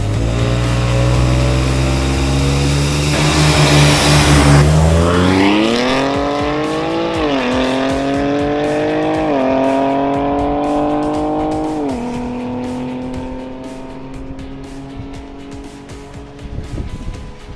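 A BMW G80 M3 Competition launching on the Midvaal Raceway track, the engine revving loud and close, then roaring up through several rising gear pulls with brief dips at each shift before fading slightly.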